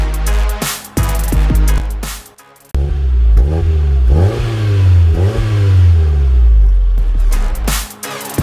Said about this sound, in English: There you go, 2009 Hyundai Coupe Series 3. This is a 2-litre petrol, this one.